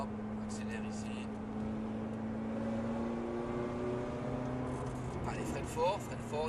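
Ferrari F430 engine revving steadily on a race track, a sustained low drone with rising harmonics, heard from inside the car under an instructor's continuous talk.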